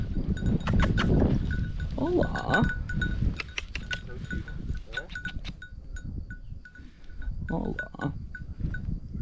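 Goats bleat on a meadow homestead in central Portugal, a few close, wavering calls rising over rustling and light bell-like clinks, with a person briefly greeting them.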